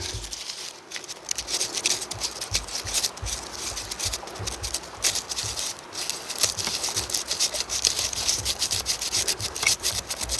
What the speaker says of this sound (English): Scrape some of this just to get some fine powder.